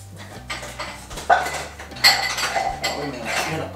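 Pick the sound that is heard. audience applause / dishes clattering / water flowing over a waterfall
dishes clattering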